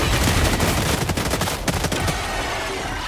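An energy gun fires in rapid bursts in Helldivers 2, loud dense crackling volleys that thin out toward the end, with no voices.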